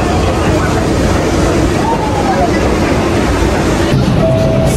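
Loud, steady rumble of a New York City subway train running close by, a constant roar with faint squeals near the end.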